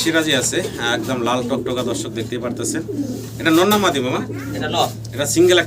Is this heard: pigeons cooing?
yes